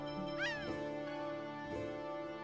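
A cat meows in the Tales of Symphonia video game: a single rising-and-falling meow cuts in over steady game music with sustained tones.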